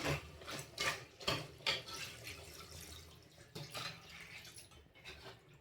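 Water splashes and pours in a few uneven bursts into a pot of cooking mutton, with wet sloshing and a faint background hum, no voices.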